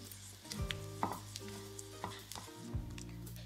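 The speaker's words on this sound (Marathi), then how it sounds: "आता हे सगळं एकत्र भाजून घ्यायचं" Grated dry coconut and poppy seeds roast together in a pan, giving a soft, steady sizzle with a few scraping stirs, quiet and close, with no talk.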